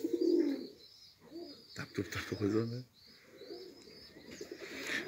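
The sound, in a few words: Baku marble pigeons cooing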